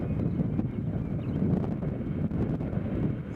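Wind gusts across Nashville International Airport at about 20 knots, a steady low rumble with intermittent buffeting puffs against the microphone, moderately faint.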